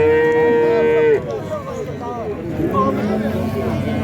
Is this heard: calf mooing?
yes